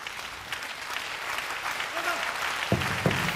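A crowd applauds steadily at a pro wrestling match in Sendai, a constant wash of clapping across the whole hall, with a commentator speaking over it.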